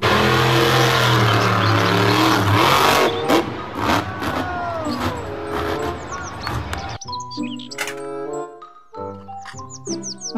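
A toy monster truck's loud engine sound roars and revs for about three seconds, then fades into chirping and bouncy tones.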